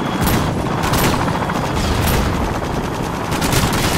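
Rapid machine pistol fire in Modern Warfare 2 multiplayer, dense loud bursts of gunshots that run without pause, with other battle noise mixed in.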